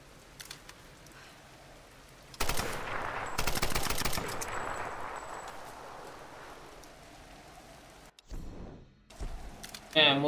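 Bursts of video game gunfire from Tomb Raider in story mode, a dense rapid volley around the middle over a rainy, noisy backdrop, then quieter stretches with a brief sharp burst near the end.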